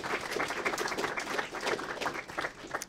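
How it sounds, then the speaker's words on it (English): Conference audience clapping for panelists, a fairly faint and steady patter of many hands in a room, sustained throughout with little else heard. "I want us to give a solid round of applause to our wonderful panelists today"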